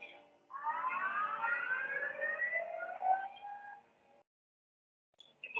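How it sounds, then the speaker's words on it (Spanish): A rising, wailing siren plays back from a recorded video, a single sweep that climbs and holds for about four seconds before cutting off, fairly faint and distant-sounding. "Ya hay una sirena."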